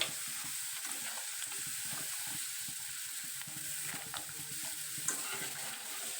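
Sweet potato chips fry in hot oil with a steady, bubbling sizzle and a few faint scrapes, fairly quiet and continuous, with no one talking.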